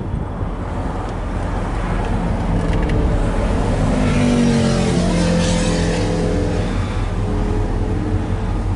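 A 1967 Pontiac Grand Prix convertible on a test drive, its engine pulling up through the gears with rising tones over steady road and wind rush, no speech.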